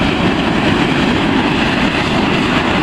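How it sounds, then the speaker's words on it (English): Steam jets steadily out of geothermal ground near Taupo, New Zealand, a loud, constant broadband hiss and roar with no break. "That's an absolute jet of steam coming out of there."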